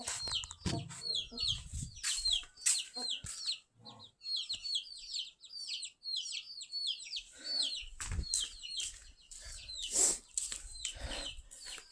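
Chickens cluck and chirp in a rural yard, a busy close flock with repeated short calls, a quieter stretch in the middle, and occasional thumps and wing flaps.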